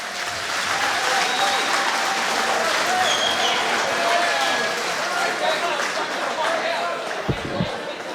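A crowd at a youth MMA event applauds steadily for the young fighters, a dense, sustained clapping with some cheering and an announcer's voice beneath it.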